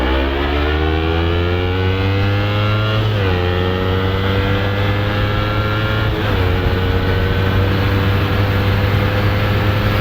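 A Kawasaki Ninja 250 running a carbureted engine swapped in from another bike, revving loud and close with a steady drone that climbs through two gear shifts.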